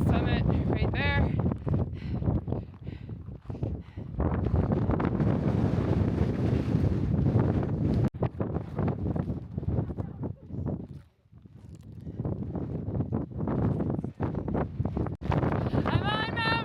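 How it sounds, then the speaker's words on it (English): Strong wind buffets the microphone in heavy, roaring gusts with a brief lull on a mountain summit, while a person talks intermittently under the noise. "It's so windy."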